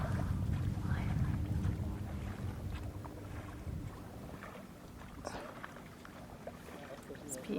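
A small sailboat's tender is rowed with oars on a calm summer evening while its motor is not working, with soft water swishes and wind noise close to the microphone and faint sounds of the oars.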